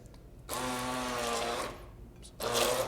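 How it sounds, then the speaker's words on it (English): A hand blender purees tomatoes in a kitchen with two close, loud whirring bursts, a longer run of about a second followed by a brief pause and a second start. "so you're just using the hand blender or the thunder stick, as we call it in the kitchen?"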